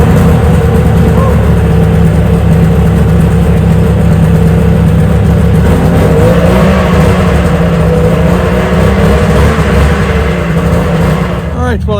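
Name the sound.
small engine revving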